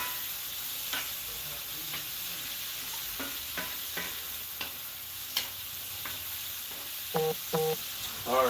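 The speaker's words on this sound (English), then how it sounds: "And we're getting the onions sauteed here." Onions sautéing in a pan, a steady close sizzle and frying hiss with occasional stirring scrapes and utensil clicks and a few louder taps near the end, with no talk.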